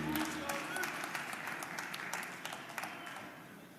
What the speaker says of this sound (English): Applauding all sorts of scores.